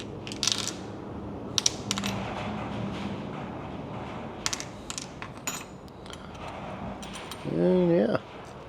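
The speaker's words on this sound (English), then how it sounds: "Dump all the bearings out. Throw your cages up there." Steel ball bearings from a 1968 Harley-Davidson Shovelhead engine spilled into a 3D printed parts tray, with scattered small clinks and rattles over a steady noisy background, and a brief voice near the end.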